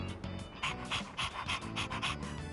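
A dog in Persona 3 Reload pants in quick, rhythmic breaths, about eight close, steady huffs against a faint background.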